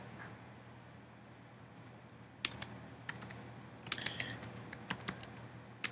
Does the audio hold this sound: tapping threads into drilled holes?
no